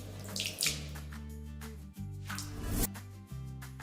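A tap runs into a sink as water is used to clean a small wound, giving a close, steady splashing stream with a few brief interruptions.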